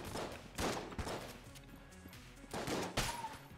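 Shotgun blasts from the video game Enter the Gungeon, several loud booming bursts spaced irregularly across the clip, with a low game hum beneath and no speech.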